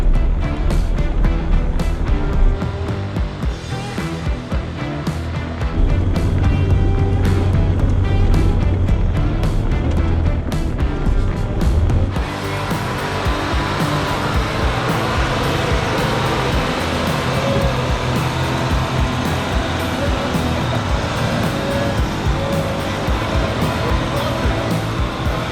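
A Jeep Gladiator grinds steadily through about a foot of deep snow on a mountain trail, its engine and tyres giving a continuous loud roar that turns brighter and harsher partway through.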